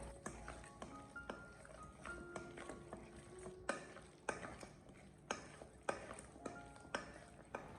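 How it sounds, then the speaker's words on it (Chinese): Seasoned chicken pieces being stirred in a bowl for Cantonese steamed chicken with shiitake mushrooms, giving steady scraping and repeated light clinks of utensil on dish, with no talking. "我们将它持续的多搅拌一小会，把鸡块给它搅拌至有一点微微的发黏"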